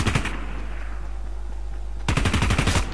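Close bursts of rapid gunfire in Fortnite, a short volley at the start and a louder, denser burst near the end, over a steady low game hum with quiet gaps between.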